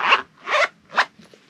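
A zipper runs closed on a small case holding rose gold metal darning needles, its pull decorated with a tassel and crystal: three quick, close rasping strokes, then a faint short scrape at the end.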